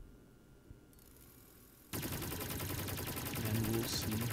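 A video game minigun opens up after a quiet lead-in, firing a loud, continuous rapid stream of shots that holds steady to the end, with no talk.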